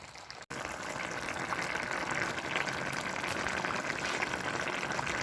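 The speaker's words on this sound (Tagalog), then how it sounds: "habang kumukulo siya" Steady bubbling and rushing of water boiling in a pot for asado, continuous and fairly close, with no voices.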